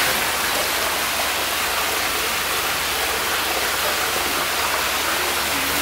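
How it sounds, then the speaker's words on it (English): Steady rain hisses loudly and evenly in Mulu National Park, Sarawak, Malaysia, a dense wash of falling drops with no pauses. "It's starting to rain!"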